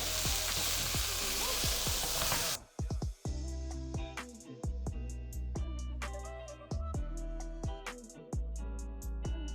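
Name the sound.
onion frying in pan for Indian dhal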